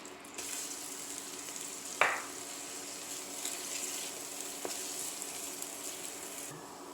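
Chopped onion cooks in melted butter in a pan for a cilantro-lime rice dish, a soft, steady sizzle heard close with a sharp clatter of stirring near the start and faint scraping later.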